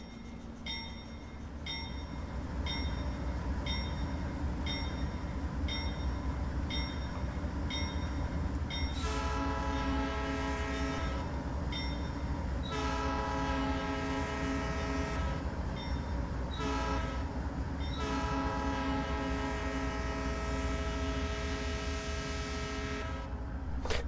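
Cab ambience of a Southern Pacific AC4400CW diesel locomotive in Train Simulator Classic: a steady low engine drone with repeated short horn-like tones early, then long sustained tonal blasts over the constant rumble, no talking.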